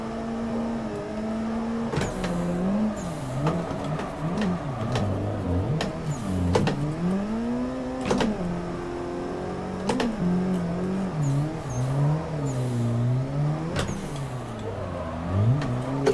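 A car engine in the racing game Assetto Corsa revs repeatedly, its pitch sweeping up and down through rising and falling throttle blips, with sharp clicks at shifts, loud and alone.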